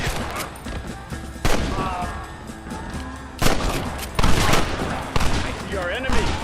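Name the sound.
gunfire in Red Dead Redemption video game shootout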